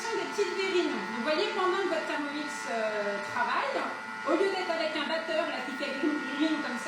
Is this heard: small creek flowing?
no